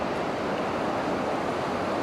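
Ocean surf washes steadily onto Corolla Beach in the Outer Banks, North Carolina, as a continuous broadband roar with wind buffeting the microphone and no speech.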